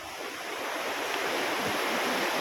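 Sea waves break and wash along the shore in a steady, close rushing surge that swells slightly louder after the start, with no voices.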